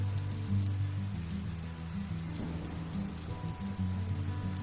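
Steady rain pours and patters on a surface, with sustained low musical tones running beneath it.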